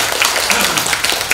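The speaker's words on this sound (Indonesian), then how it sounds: "Jadi tepuk tangan buat Kapal Sakti." An audience at a regional government cigarette-rolling training event in Malang, Indonesia gives a brief burst of dense, close clapping that lasts just over a second.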